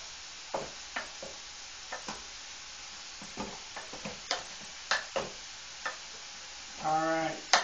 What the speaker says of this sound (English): So we'll mix this up again here.